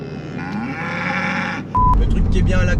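Cattle moo in the countryside, a drawn-out lowing call heard over car noise, followed by a sudden loud rumble from a Porsche Boxster S V6 as the car passes.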